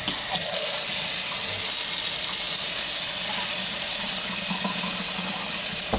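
A freshly repaired faucet that had been leaking runs at full flow, a loud, steady hiss and splash of water pouring into the sink, constant throughout with no pauses.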